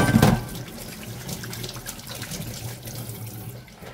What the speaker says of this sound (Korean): 물이 잘 나오죠